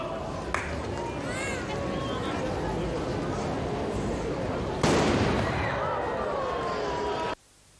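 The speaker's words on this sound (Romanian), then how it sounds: "O salvă de tun!" A ceremonial cannon salvo booms out in a crowded Christmas park at the opening of the holiday lights in Timișoara, with costumed period troops present; one sharp blast cuts through steady crowd noise and echoes away.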